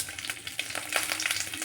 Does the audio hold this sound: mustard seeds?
yes